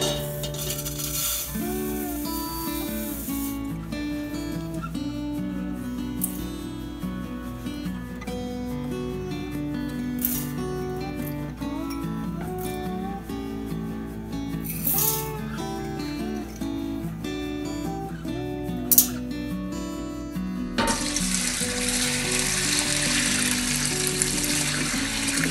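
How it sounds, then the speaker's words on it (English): Elderberry syrup ingredients are stirred in a pot, with soft liquid swishing and occasional light knocks of the spoon against the side, then a louder rush of water near the end. "Stir it around."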